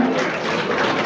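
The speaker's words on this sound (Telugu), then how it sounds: "చప్పట్లు కొడదాం అందరం కూడా." An audience claps for a young gold medalist at a kids' athletics competition, a short close burst of steady applause.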